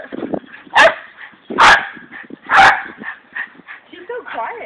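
A dog pup gives three sharp, loud barks, then a run of softer yips and whimpers, with a person talking over the sounds at close range.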